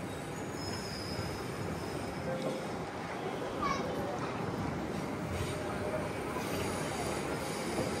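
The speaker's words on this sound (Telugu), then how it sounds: "ఇక్కడ కూడా ఒక 1 minute స్టాప్ తర్వాతనైతే మన ట్రైన్ బయలుదేరిపోయింది" A MEMU passenger train pulling away from a station between Repalle and Tenali, its wheels giving faint, high squeals over a steady rumble of rolling stock, heard from on board.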